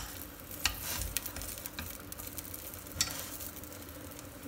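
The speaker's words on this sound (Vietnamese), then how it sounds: "Mình sẽ phi thơm gừng lên." Ginger sautéing in a pan while preparing fish soup with vegetables gives a steady, soft sizzle, broken by a few clinks and stirring scrapes throughout, heard close up with no talking.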